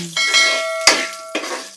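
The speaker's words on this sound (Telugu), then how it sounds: "కొద్దిగా పసుపు, సాల్ట్ వేసుకుని బీరపొట్టు వేయించుకుందాం" Ridge gourd peel fries in a pan with turmeric and salt in a home kitchen, a steady sizzle broken by two ringing metallic clanks of a spatula or ladle striking the pan.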